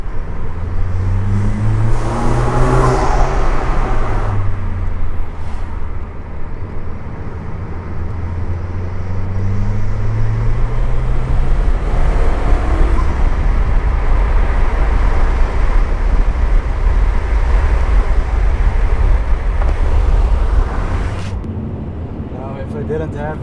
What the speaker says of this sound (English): the sounds that this car now makes with the BMC CDA air intake are just super addictive